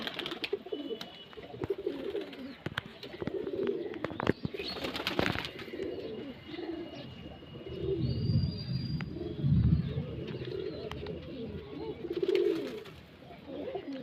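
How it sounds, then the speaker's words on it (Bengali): A flock of pigeons kept for sale in an outdoor setting coos in low, overlapping murmurs, with occasional wing flaps and chirps over steady background noise. "অনেক পায়রা আছে"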